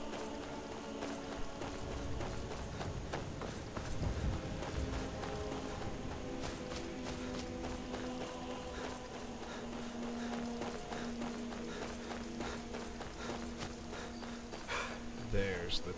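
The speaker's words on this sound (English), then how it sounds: "There's the horse. Hop aboard." Horse hooves clip-clop in the video game Skyrim, a steady trotting patter running under game music and a voice talking throughout.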